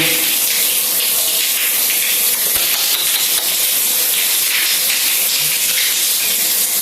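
Murky tap water from a Manila Water faucet gushes in a steady, loud hiss that continues without a break at close range, with no voices over it.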